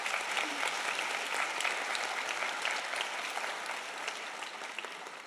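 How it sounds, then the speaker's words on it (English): Audience at a school district honors night applauding a retiring principal, a dense, even wash of clapping that holds steady and fades slightly toward the end. "Give her a round of applause."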